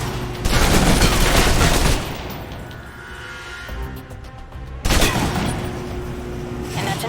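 Submachine gun fire from the video game Alpha Protocol: loud sustained automatic bursts at the start, a quieter stretch of scattered shots and rumble, then another heavy burst near the end, with no talking.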